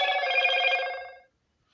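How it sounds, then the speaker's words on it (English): A mobile phone ringing nearby: one bright, tonal ring burst that cuts off abruptly after about a second, leaving silence. "Sorry, that was my phone."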